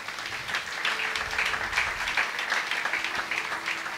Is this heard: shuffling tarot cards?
no